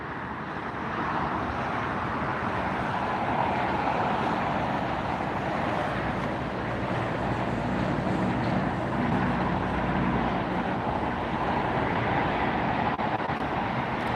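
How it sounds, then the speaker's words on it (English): A Korean Air Boeing 787-9 Dreamliner landing and rolling out at LAX makes a continuous broad roar of engines and rushing air, steady and fairly loud from start to finish. "It's going to roll right through the middle here. 787-9 Dreamliner."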